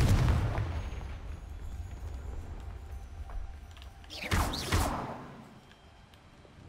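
A Confringo fire spell in the Hogwarts Legacy video game bursts in a single loud, rumbling explosion partway through, over a steady low rumble of game ambience.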